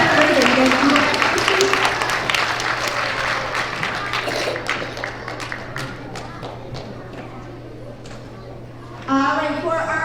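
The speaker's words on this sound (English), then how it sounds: "let's give our second graders a big round of applause" Second graders at a school character education assembly receive loud applause, dense clapping and crowd noise filling the room and slowly thinning, with an adult voice starting to speak near the end.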